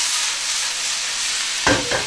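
Garlic slices, chili and wood ear mushrooms stir-fried in a hot wok give a loud, steady close sizzle, broken near the end by a couple of sharp clatters of the spatula on the wok.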